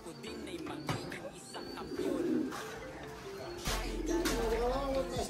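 Pigeons coo and flutter near a boat as they are released, repeated soft cooing calls close by, with people talking intermittently over them.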